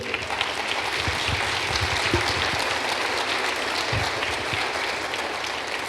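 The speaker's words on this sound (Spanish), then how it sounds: "Le damos a Dios un aplauso." A church congregation claps at length during a Spanish-language service, a steady dense wash of applause throughout, with a few faint voices mixed in.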